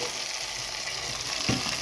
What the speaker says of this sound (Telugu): ఇప్పుడు మన పోపు అనేది వేగిపోయింది ఇప్పుడు మనం ఉడుకుతుండగానే దీంట్లోకి ఇలా వేసేసుకోవాలి